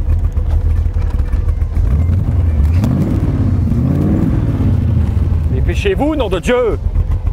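A big-displacement motorcycle with oversized carburetors idles and rumbles up close, a loud steady low throb with a couple of rising revs toward the end, while someone shouts briefly over it.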